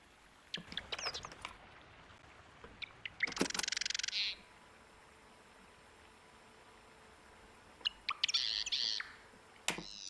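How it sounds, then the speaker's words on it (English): Bird calls heard during an indoor live stream, a few sharp chirps and two brighter bursts of calling separated by quiet stretches. "Suara burung."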